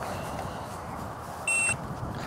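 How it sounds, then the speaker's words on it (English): A handheld GPS device used for geocaching emits a single short electronic bleep, signalling it is near a hidden cache, heard over outdoor wind and ambient noise on a countryside walk near sheep. "That bleep is telling me that I am getting close to the cache."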